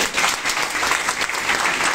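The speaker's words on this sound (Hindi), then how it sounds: "ताली बजाइए आप लोग जोर से" A school audience claps loudly and steadily through the whole moment at a student prize event, the applause dense and sustained without pause.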